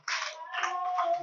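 A short burst of clapping from a church congregation giving a loud acclamation, a few quick close hand claps in uneven rhythm lasting about a second, with no talk.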